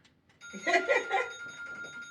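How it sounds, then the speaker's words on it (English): A phone alarm rings out in steady bright electronic bursts, fairly close, continuing for a couple of seconds with faint voices softly in the background. "It's my alarm. It's not gonna cut off."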